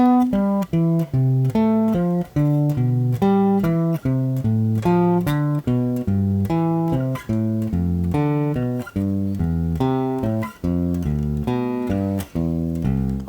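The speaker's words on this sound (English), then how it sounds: "descending scales or descending arpeggio still" A bass guitar plays steady descending arpeggio patterns, each run stepping downward, evenly paced with no voices.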